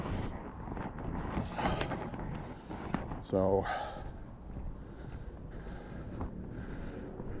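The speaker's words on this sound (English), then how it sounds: "Very high winds. 25, 30 mile an hour with higher gusts" Heavy wind of 25 to 30 mph with stronger gusts buffeting the microphone outdoors in rumbling gusts, with a brief voice and some shuffling sounds underneath.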